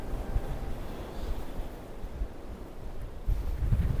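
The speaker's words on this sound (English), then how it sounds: "Just waiting for a gust." A gust of wind in stormy weather on an exposed hiking edge buffets the microphone with low rumbling blasts that rise and fall, growing stronger near the end.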